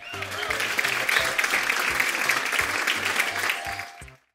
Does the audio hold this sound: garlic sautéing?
no